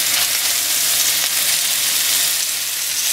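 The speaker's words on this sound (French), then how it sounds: "Donc là, on va venir les saisir rapidement des deux côtés." Filet mignon pieces sear hard in a hot pan, a loud, dense and steady sizzle that fills the whole stretch with no talking.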